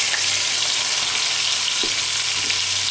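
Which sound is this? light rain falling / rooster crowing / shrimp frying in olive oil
shrimp frying in olive oil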